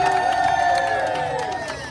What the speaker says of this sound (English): So everybody give these kids a big round of applause.